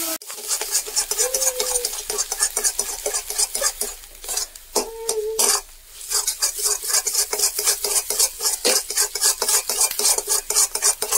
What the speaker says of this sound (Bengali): একটু কড়াতে তেল আর লবণ দিয়ে কষে নেন